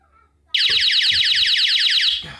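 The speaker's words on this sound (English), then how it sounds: "an alarm, which is honestly one of the loudest alarms I've ever heard in my life, goes off" A piercing, very loud electronic alarm from a water leak sensor in an RV blares suddenly, pulsing rapidly in a repeating warble for about two seconds before cutting off.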